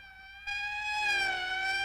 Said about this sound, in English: That's the fifth siren in the last hour